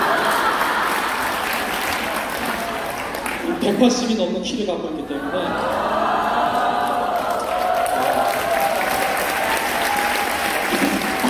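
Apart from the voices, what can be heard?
audience applause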